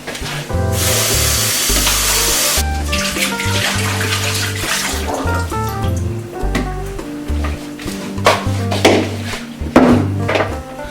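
Water streams steadily over onions and paprika being rinsed for moi moi, a continuous gushing splash for about eleven seconds with music playing quietly underneath.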